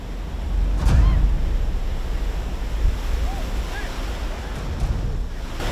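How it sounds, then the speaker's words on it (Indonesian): Big ocean waves roll onto a beach, a broad steady wash of surf mixed with wind buffeting the microphone, with faint voices in the background. "Ombaknya gede"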